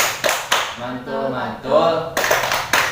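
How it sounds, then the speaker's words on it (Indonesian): A group of mothers in a PKH family-development session performs the rhythmic "tepuk mantul" clap: sharp unison claps open the pattern, voices chant together in the middle, then crisp claps return near the end. "tepuk mantul buat Ibu sana"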